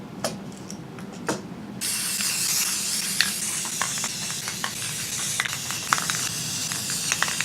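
Aerosol spray glaze misted over painted model robots, a steady close hiss that starts about two seconds in and runs continuously, broken by small clicks and taps from the can.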